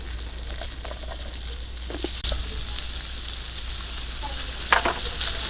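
Potatoes fry in oil in a pan just after chicken, for a singara filling, with a loud, steady close sizzle broken by a few clattering stirs.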